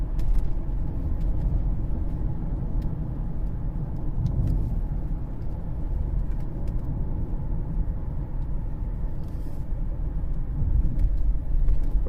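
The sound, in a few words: Cadillac CTS drive shaft noise while driving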